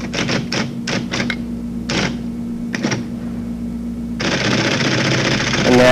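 Keys clacking on a computer terminal keyboard while entering APL code: a quick run of sharp taps, a pause, a few more strikes, then a steady hiss of noise under a constant low hum.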